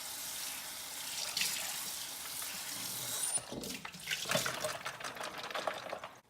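Tap water runs and splashes as an Instant Pot lid is rinsed in a sink, a steady hissing flow that briefly breaks into irregular spatters as the lid is moved, fairly faint and close.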